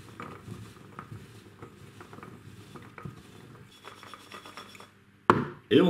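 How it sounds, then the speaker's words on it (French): Vegetable pesto ingredients mixed by hand, giving soft, moist patting and rubbing textures that keep up steadily at close range, ending in a louder burst of handling noise. "Et maintenant nous allons mélanger tout ça avec nos mains."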